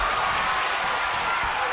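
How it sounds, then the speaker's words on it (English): A loud crowd at a community wrestling show cheers and applauds in a dense, continuous roar that fills the whole moment without pause. "Why is the crowd so loud?"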